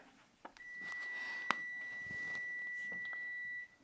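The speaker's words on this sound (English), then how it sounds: "Yes, thank you, timer." An electronic timer giving a single sustained high beep lasting about three seconds, steady and fairly quiet, with a brief click near its start.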